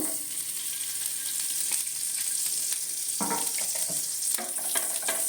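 Ghee hits a hot pan for garlic chicken, producing a loud, steady sizzle with intermittent clatter from stirring, and no talking.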